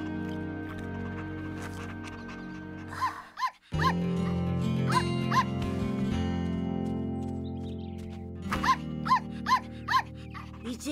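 A cartoon puppy in Franklin the Turtle whimpers with short high yips and a few barks over a steady low hum, the cries coming in bursts near the mic.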